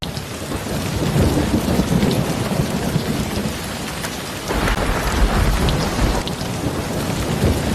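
Heavy rainstorm in Chiang Mai, dense steady rain pouring down with rumbling thunder beneath it, loud and continuous, and a brief swell of intensity partway through; no one speaks.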